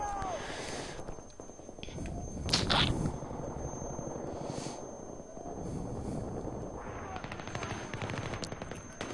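Automatic fire from an RPK light machine gun in Battlefield 3, sounding as repeated bursts over a steady din of wind-like battlefield noise, with a loud crack near the middle and rattling fire returning toward the end.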